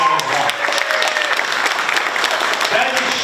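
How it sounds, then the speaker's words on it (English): Audience applause at a political celebration event for a member of parliament, a loud, continuous burst of clapping with crowd murmur mixed in, steady throughout. "So can we get a round of applause for that as well?"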